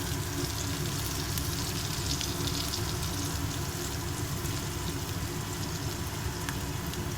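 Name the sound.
sliced raw banana (aratikaya) frying and being stirred in oil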